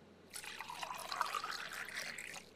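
Sugar syrup made from sugar boiled in water trickles and pours softly onto strawberry ice cream in a kitchen, a brief continuous liquid stream that rises and fades.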